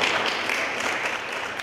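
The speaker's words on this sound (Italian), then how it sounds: "Un timido applauso accoglie al municipio di Chioggia l'annuncio del ministro Dario Franceschini" Timid applause in the Chioggia town hall after a culture-capital announcement: a thin, uneven patter of scattered hands clapping, moderately loud and without voices, fading slightly toward the end.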